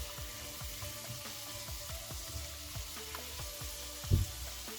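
Peeled tomatoes and other ingredients fry in a pan for ackee and saltfish, a low even sizzle with rhythmic stirring scrapes and a louder knock near the end.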